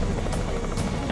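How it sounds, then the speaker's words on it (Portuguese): A search helicopter passes almost directly overhead in a vast snowy wilderness, its steady broadband rotor and engine roar loud and continuous throughout. "O helicóptero de busca passa voando praticamente acima deles."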